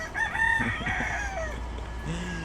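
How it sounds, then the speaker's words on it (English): Chickens feeding on breadfruit skin in a Jamaican yard, with a rooster crowing and hens clucking nearby in overlapping calls, moderately loud against outdoor ambience. "These chickens are having a feast"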